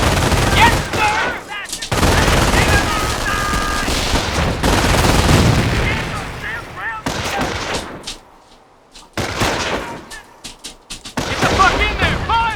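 Dense battlefield gunfire from Company of Heroes, with rapid rifle and machine-gun bursts and heavy booms that mostly overlap, a short lull near the end, then more shots. Voices shout orders throughout.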